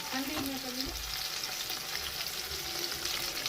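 Food frying in oil with a soft, continuous sizzle and occasional stirring, fairly quiet, with a faint voice briefly at the start.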